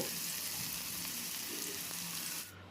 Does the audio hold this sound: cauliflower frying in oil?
yes